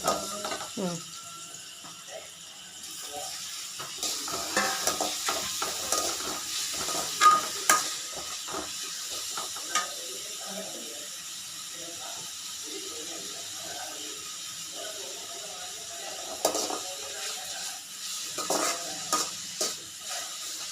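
Ingredients for atta Maggi sauté in a pan, a continuous sizzle with repeated scraping and stirring strokes, while people talk now and then in the background.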